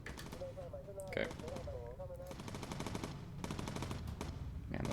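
Bomber gunners fire machine guns in the Bomber Crew video game, with rapid repeated bursts of gunfire heard under steady game sounds and someone talking over it.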